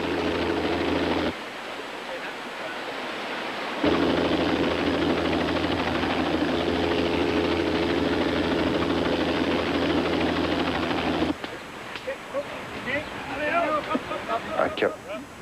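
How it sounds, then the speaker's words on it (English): An air ambulance helicopter landing on a logging bridge gives a loud, steady rotor and engine roar that rises after a brief dip and drops away near the end. "The air ambulance helicopter pilot decided to try to land on the logging bridge."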